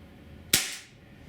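A single sharp shot from an HK P30 4.5mm CO2 pellet gun cracks once, close and loud, its hiss trailing off quickly into a quiet background.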